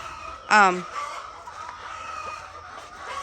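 A rooster's loud, close crow on a small farm in Ghana rings out at the start, then fades into quieter ambient farmyard noise with faint clucks and light background sounds.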